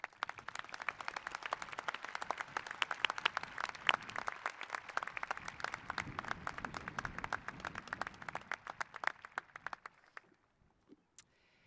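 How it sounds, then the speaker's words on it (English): Graduation audience at a high school commencement applauding faculty members, steady dense clapping for about ten seconds that thins out into a few scattered claps and then stops. "Please join the students in giving our faculty members a round of applause"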